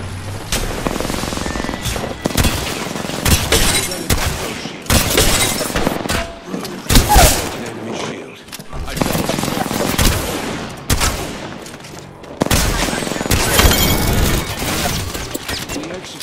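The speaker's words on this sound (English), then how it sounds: "Taking fire." Apex Legends firefight: dense, loud bursts of automatic gunfire and single shots with shattering impacts, broken by short pauses, while in-game voices speak over the shooting.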